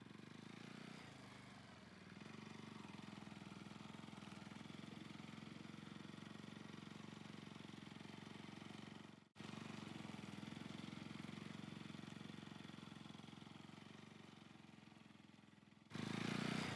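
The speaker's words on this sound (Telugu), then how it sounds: "పదండి నా బైక్ పైన వెళ్దాం." A motorcycle engine runs steadily at idle, a constant close droning hum with a brief dropout midway and a louder burst near the end.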